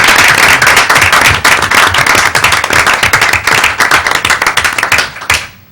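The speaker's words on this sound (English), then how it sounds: "We give a round of applause for the team" A close, loud round of applause at a school board meeting for a championship bowling team, sharp individual claps standing out from the crowd, thinning and fading out near the end.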